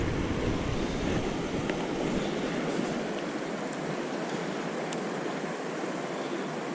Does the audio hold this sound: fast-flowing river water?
yes